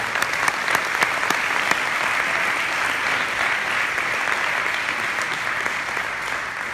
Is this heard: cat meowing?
no